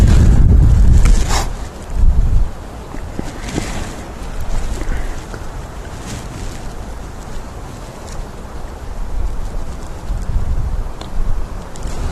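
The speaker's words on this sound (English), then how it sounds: "It is very windy, which doesn't help things, makes it a bit more difficult for me to hear stuff" Strong wind on safari buffets the microphone in heavy low rumbling gusts, loud and close, rising and easing over the stretch with no talk.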